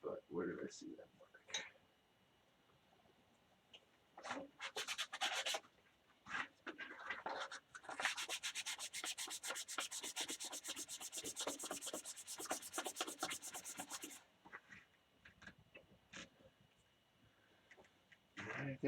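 A wood turning is sanded with 600-grit sandpaper, a continuous raspy rubbing that runs for several seconds in the middle, with brief scratchy strokes before and after and someone talking quietly around it.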